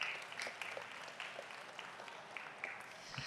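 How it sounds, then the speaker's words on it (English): Faint, scattered clapping from an audience at a business travel awards session for the APAC finalists, with a few sharper individual claps standing out over a thin, distant wash. "I want to give a round of applause to all of the finalists who were up here today"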